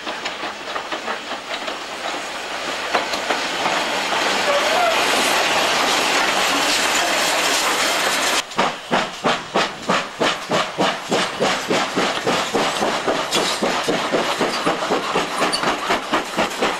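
Heritage steam train running on a 16-mile line along the River Severn between Bridgnorth and Kidderminster: a steady steam roar and hiss, then a loud, close rhythmic clickety-clack of wheels over rail joints as carriages pass.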